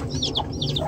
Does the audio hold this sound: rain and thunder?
no